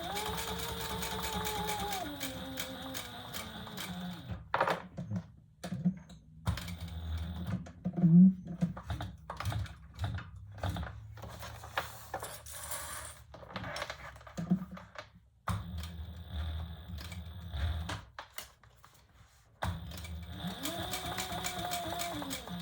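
A sewing machine top stitching a leather sling bag runs in steady whirring bursts, pausing between runs with clicks and handling sounds, close and clear.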